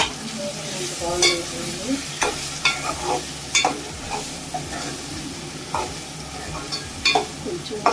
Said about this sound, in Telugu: ఇప్పుడు పచ్చి రొయ్యలు వేసేసుకున్నామండి. పెద్ద రొయ్యలు అండి, టైగర్ రొయ్యలు